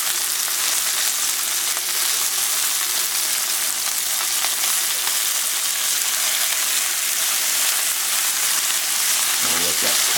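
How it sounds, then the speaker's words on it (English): Lamb chops in a hot pan as cognac and butter go in off the heat, a loud, dense, unbroken frying hiss close up, with a brief knock near the end. "I'm going to add the cognac and the butter"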